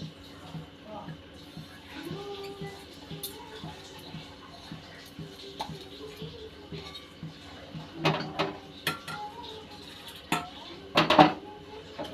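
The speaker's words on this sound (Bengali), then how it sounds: "এই যে ভাতটা এখন বসিয়ে দিচ্ছি, আলু সেদ্ধ হয়ে গেছে, এখন ভাত বসিয়ে দিচ্ছি।" A pot of rice is set down on a kitchen stove, giving a few scattered metallic clanks and knocks that grow louder toward the end amid a low, busy kitchen background.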